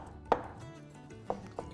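A knife chopping garlic on a cutting board in a kitchen: three sharp, distinct chops spaced irregularly, close and clear against a quiet room.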